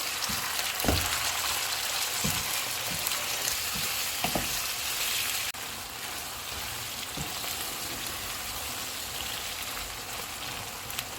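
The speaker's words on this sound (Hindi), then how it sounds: "चिकन डालेंगे। चिकन का कलर चेंज होने तक इसको पकाएंगे।" Boneless chicken frying in a pan with onions and ginger-garlic paste for a handi, with a steady loud sizzle and occasional stirring scrapes throughout. Nobody speaks.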